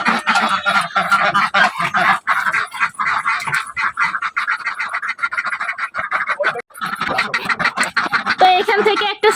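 Ducks inside a village coop honk and quack in a busy, overlapping chorus that runs throughout, close by and fairly loud, with scratching and shuffling among them and a person speaking at times.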